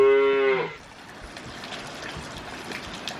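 A single cow's loud, drawn-out moo close by on a farm yard, followed by quiet outdoor background with faint rustling.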